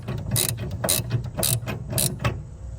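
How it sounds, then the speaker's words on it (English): A ratchet tightens a 17 mm bolt on a camper battery shunt, five close, loud bursts of rapid clicking separated by short pauses, with no talking. "Finger tight at first, and then it's a 17 millimeter bolt on this particular shunt."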